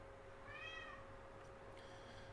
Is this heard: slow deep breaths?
no